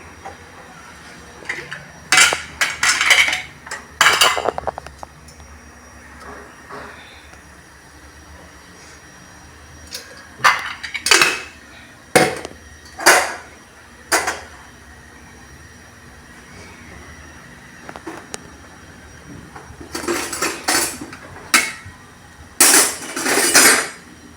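Metal utensils clatter against a pressure cooker on the stove while oil heats for tempering, in bursts of sharp clanks separated by quieter stretches.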